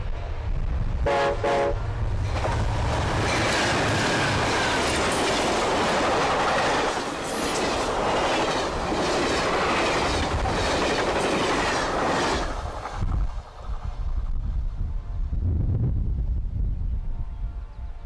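Amtrak westbound Cardinal passenger train rushing past close by, loud roaring wheels with clickety-clack and some squeal, brief horn toots at the start, fading to a quieter rumble as it moves away.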